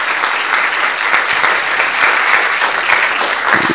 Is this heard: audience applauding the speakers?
yes